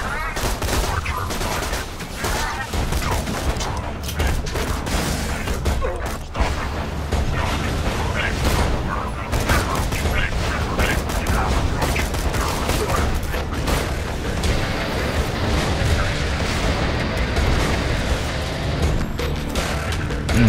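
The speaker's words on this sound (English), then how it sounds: "Shooting fire missiles at me." Fire missiles being shot at the player in Borderlands 2, a long, dense barrage of explosions, booms and mechanical clatter, with a voice talking at times.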